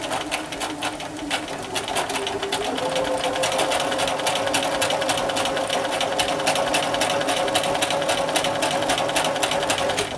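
A sewing machine stitches fabric for a roll kit, starting with a few short bursts, then running in a steady, loud, rapid mechanical patter close by with no talk.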